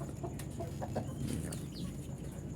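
Laying hens and roosters clucking in a chick-rearing pen, several birds making short, overlapping calls against a steady background hum.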